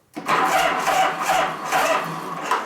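A 1983 Harley-Davidson FXR shovelhead engine cranking over repeatedly without catching, a loud, steady, rhythmic churn lasting a couple of seconds, heard close up with no talk.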